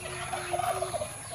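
Turkeys kept on a Filipino farm gobble in a brief, close burst of warbling calls that lasts about a second, with no talking over them.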